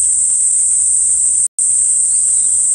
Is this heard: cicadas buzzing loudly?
yes